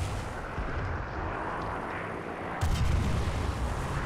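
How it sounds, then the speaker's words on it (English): Artillery barrage in the War Thunder tank game during a realistic battle at Prokhorovka, heard as a continuous dense rumble of distant booming fire that swells louder near the end. "The enemy is preparing for artillery barrage."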